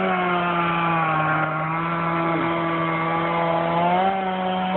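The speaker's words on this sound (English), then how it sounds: "Let's see how fast this saw goes." A Stihl MS461 chainsaw with a 20-inch bar runs at high, steady revs while cutting standing dead black locust, a loud, continuous close-up whine with little variation.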